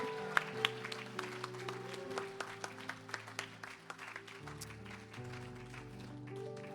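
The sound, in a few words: congregation applauding the Lord in church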